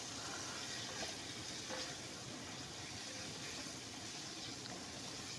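Potatoes and spices sizzle and hiss steadily as they are fried and stirred in a pan for a Bangladeshi coconut-milk snakehead fish curry, a broad close crackle with no talking.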